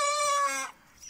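A hen kept in a pen with roosters gives a single drawn-out, close clucking call that fades out after about half a second, followed by faint quiet.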